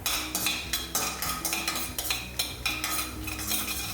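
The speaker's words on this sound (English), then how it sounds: "I'll start by roasting some peanuts, urad dal and chana dal." Peanuts, urad dal and chana dal being roasted in a pan, heard as close, repeated scraping and clinking of a utensil stirring against metal over a soft background hiss, with no voices.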